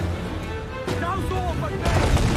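Ship cannons fire in Assassin's Creed Black Flag, broadband booms landing at about one second and again near the end, thick over a continuous bed of battle noise and crew shouts.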